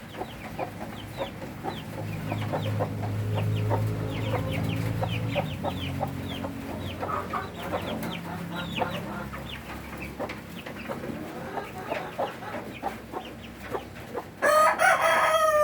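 Hybrid chickens cluck repeatedly in short, dense bursts at close range, and near the end a rooster crows loudly once.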